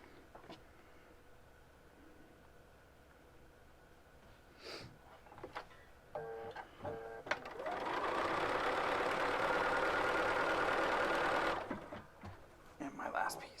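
Sewing machine stitching quilt pieces of white triangles along a strip, a steady loud whirring run of a few seconds after some quieter handling noises.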